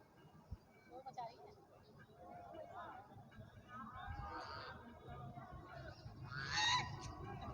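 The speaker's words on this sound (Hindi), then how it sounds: "ये बत्तखें यहाँ आराम कर रही हैं।" A flock of ducks resting near Radha Kund on a rainy morning gives scattered nasal honks and chatter, soft to moderate and rising toward the end, mixed with background voices.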